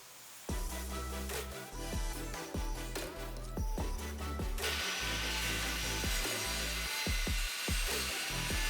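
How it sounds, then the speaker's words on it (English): A circular saw cutting strips from plywood along a guide, a loud continuous whine and rasp of the blade in the wood, with knocks and shifts in tone as the cut goes on, close by. "I set up a guide and cut 4 strips out of the wood using a circular saw"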